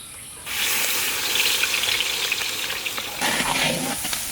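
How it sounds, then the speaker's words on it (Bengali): Pieces of silver carp hit hot oil in a pan and burst into a loud, hissing sizzle that holds steady, then flares again briefly near the end. No one speaks. "কড়াই গরম হয়ে গেছে, তেলটা দিয়ে দিলাম, এই মাছটা ভুনা করে নেবো।"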